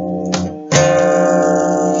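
All strings of a stringed instrument sound together, one ringing chord fading, then a fresh strummed attack with a rich, sustained, layered tone that rings on steadily.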